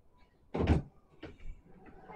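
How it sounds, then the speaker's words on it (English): A drawer in a home is pushed shut with a solid thump and a rolling slide, followed by a softer knock and faint rustling at close range. "Can you push your drawer in?"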